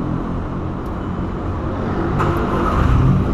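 A Volkswagen Gol fitted with an exhaust diffuser idles close by with a loud, deep, steady engine rumble that swells slightly toward the end.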